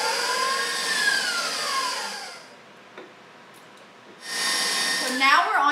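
An electric mixer beats eggs into chocolate chip cookie dough with a steady high motor whir, then drops to near silence before being cranked back up to full speed.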